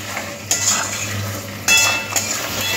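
A metal spoon stirring chicken and fried potatoes in a cooking pan for chicken curry, with sharp clinks and scrapes against the pan over a soft frying sizzle, close and without talk.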